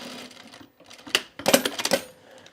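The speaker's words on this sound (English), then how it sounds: "I'm gonna sew across here" A sewing machine stitching across a bag, short bursts of quick mechanical clatter with pauses between, close and fairly faint.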